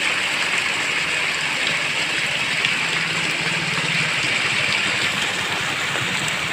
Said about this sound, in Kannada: ಅಂಗಡಿ ಒಳಗಿಂದ ನೀರು ಬರ್ತಾ ಇದೆ.